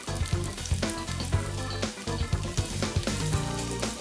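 Croutons fry in garlic-infused olive oil, a steady loud sizzle with frequent sharp crackles and pops, close up and without talk.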